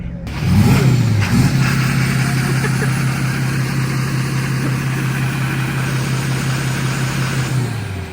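A Duramax LLY diesel truck engine revs up hard and holds a steady, loud, droning high-rev note for several seconds before dropping off, with faint voices in the background.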